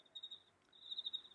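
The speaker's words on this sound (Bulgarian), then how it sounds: "Щурци. Много готино е направено." A baby white noise machine plays a cricket chirping sound, a steady high-pitched trill that pauses briefly midway, faint and close.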